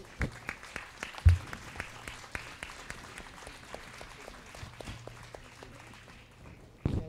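Scattered, fairly faint applause from a church congregation at a Sunday Mass, individual claps ringing out in a reverberant space for several seconds before fading.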